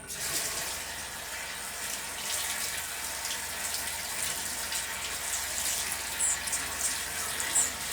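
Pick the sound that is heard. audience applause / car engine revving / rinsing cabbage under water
rinsing cabbage under water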